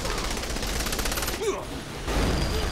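Rapid automatic gunfire from the video game Saints Row: The Third rattles loudly in a dense burst, briefly broken by a whooshing sound effect before the shooting resumes.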